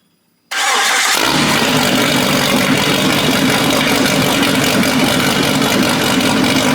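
After a brief silence a Jeep's freshly built 5.0 stroker V8 cranks and fires up for the first time, then settles into a loud, steady rumbling idle close by.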